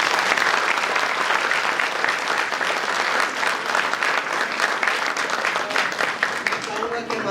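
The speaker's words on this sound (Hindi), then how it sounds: "एक बार इन बच्चों के जोरदार तालियां।" Audience applauding children at a children's theatre festival performance, loud sustained clapping filling the whole stretch with a dense, even texture, with voices faintly beneath it.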